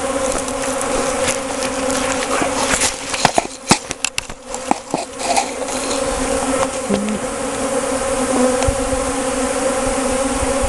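Honey bees pour out of a hive, a close, loud, steady buzzing swarm with several droning tones layered together, broken by a few sharp knocks and clicks of hive handling in the middle.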